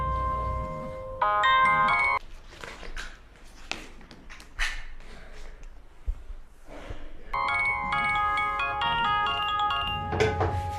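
A telephone ringtone plays an electronic melody in two clear bursts, with softer knocks and rustling in the gap between them, indoors in an old Amharic film scene.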